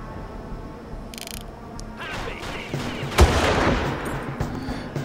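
Gunfire in the Far Cry video game, a few scattered shots building to one loud sharp blast midway, with mechanical clatter and rumbling effects around it.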